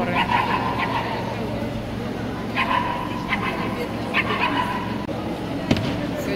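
English cocker spaniel juniors bark at an indoor dog show ring, with several short yips and barks scattered over a busy hall hum and background chatter.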